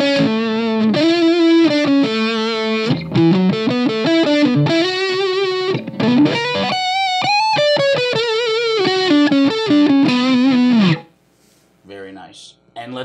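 A distorted Charvel Pro Mod San Dimas Style 1 HH electric guitar, middle pickup position coil-tapped, with a bright, thin single-coil bite plays a melodic lead line, then cuts off and rings into near silence.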